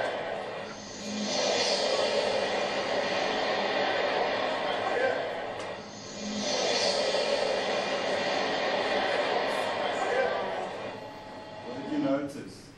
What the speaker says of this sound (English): Do you think the maglev train makes any noise?